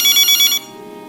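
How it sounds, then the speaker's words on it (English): A telephone rings in the night while someone sleeps, a loud electronic trill pulsing rapidly for about half a second before cutting off to quiet. "when the phone rings"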